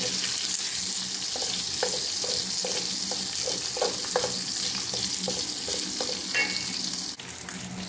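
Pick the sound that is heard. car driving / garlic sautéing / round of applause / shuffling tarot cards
garlic sautéing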